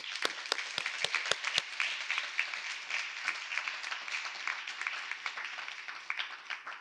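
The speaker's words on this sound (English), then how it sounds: "Let's give them a round of applause." An audience applauds at a state governor's awards ceremony for public servants, sharp individual claps at first, then thickening into sustained, even clapping from a moderately distant crowd.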